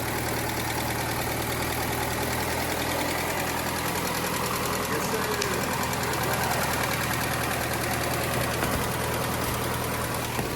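A Chevy Cruze engine idles steadily and continuously after a fresh head gasket and valve cover gasket, heard close with an even mechanical knock and hum throughout.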